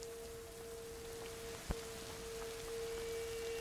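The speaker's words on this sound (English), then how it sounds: "It's raining." Soft, steady rainfall patters in the background of the video game A Plague Tale: Innocence, with a faint constant hum and a single sharp click partway through.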